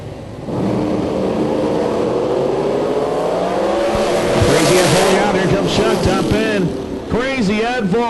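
A 1969 Camaro drag racing car with a 737 cubic inch engine launches and screams down the strip, a loud revving roar with rising and falling engine pitch, tire squeal and a race announcer talking over it.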